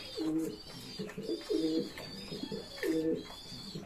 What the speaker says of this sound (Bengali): ভাই ডিম নিয়ে বসে আছে, অনেক সুন্দর কবুতর।